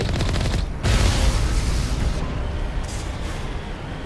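Heavy cannon fire from a Mako tank in the video game Mass Effect, a series of loud booming blasts with rumbling gunfire bursts, no voices over it.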